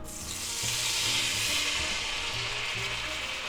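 Sous vide meat drippings sizzle and hiss steadily in a hot pan with butter and charred bits, close and continuous, with light stirring underneath.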